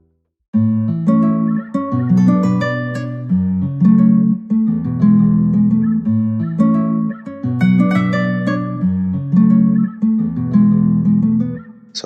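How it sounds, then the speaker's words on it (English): A second FL Studio guitar pattern for a dancehall beat, a plucked top line tracking the chords in a looping, rhythmic phrase, loud and close, heard alone without speech. "I added a second pattern which just has this top line that plays, basically just follows the chords as well"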